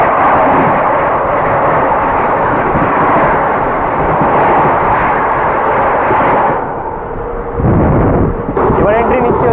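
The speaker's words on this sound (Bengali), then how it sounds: "এন্ট্রি নিচ্ছে 120-34 কানপুর সেন্ট্রাল নিউ দিল্লি শতাব্দী এক্সপ্রেস" Kanpur Central–New Delhi Shatabdi Express rolling into an Indian railway station, a loud steady rumble of wheels and carriages filling the platform, with a brief dip near the end before the heavy noise resumes.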